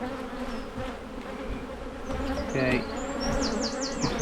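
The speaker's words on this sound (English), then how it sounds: "they're kind of buzzing around my head, which I'm kind of not appreciating." Honeybees buzz close around a beekeeper working an open hive during artificial swarm control, a steady droning hum with louder passes near the head; a brief spoken word comes in.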